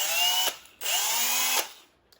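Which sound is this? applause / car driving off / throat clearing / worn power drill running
worn power drill running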